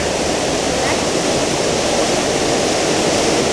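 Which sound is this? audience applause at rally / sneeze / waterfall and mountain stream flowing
waterfall and mountain stream flowing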